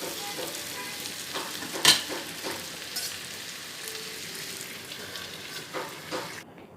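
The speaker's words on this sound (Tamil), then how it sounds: "இப்போ நல்லா எண்ணெயில் வதங்கிடுச்சு." Chicken frying in hot oil for a chicken kurma, a continuous close sizzle with occasional stirring scrapes and one sharper clatter near the start.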